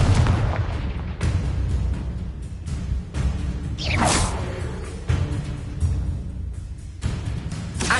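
Fire-blast spell explosions in the video game Hogwarts Legacy: a series of loud booming bursts and whooshes, one sweeping rush near the middle, layered over constant battle rumble with no talk.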